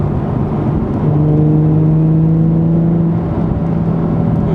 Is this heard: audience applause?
no